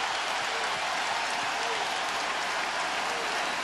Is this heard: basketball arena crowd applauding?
yes